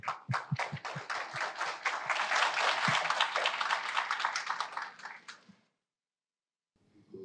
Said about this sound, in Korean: 우리 김 회장님을 박수로 맞이하시기 바랍니다